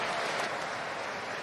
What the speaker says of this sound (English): Let's give them all a round of applause, guys